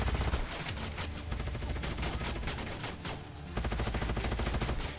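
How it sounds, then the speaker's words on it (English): Rapid bursts of gunfire in the sci-fi strategy game Age of Wonders Planetfall, a unit firing several shots in quick succession, loud and dense with brief dips between volleys and no talk over it. "He shot 3 times"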